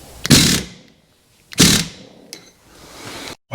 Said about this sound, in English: Now we can tighten the dampener screw.